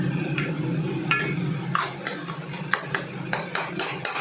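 A metal spoon clinks and scrapes against a pot while dal fry with spinach cooks, a series of light sharp taps over a soft background hiss.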